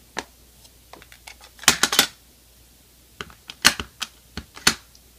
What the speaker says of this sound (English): And now we're going to stamp the sentiment.